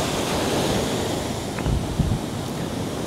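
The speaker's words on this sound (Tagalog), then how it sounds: "Wag lang sanang ganito kalakas ang alon parate kasi mahirap mag-swimming" Strong ocean waves breaking on the beach at Indira Beach House in Botolan, Zambales, a loud continuous roaring surf with wind buffeting the microphone, no voices.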